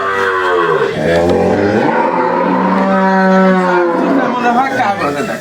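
A Friesian-Gir cross dairy cow on a farm gives a long, loud, close moo with a second rising call, and low chatter sounds faintly behind it.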